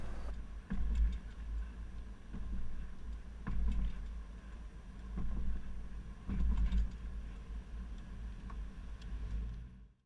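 A 2017 Dodge van carrying a Swagman XTC4 four-bike rack rolls over full speed bumps, with low rumbling thumps and faint rattles recurring every couple of seconds under a quiet engine drone.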